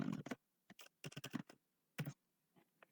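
Keystrokes on a computer keyboard as watermark text is entered in Microsoft Word, a quick burst of close, crisp clicks followed by short separated taps and a few faint ones at the end, with no talking.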